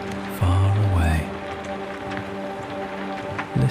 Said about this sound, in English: the continuous, rhythmic falling of the rain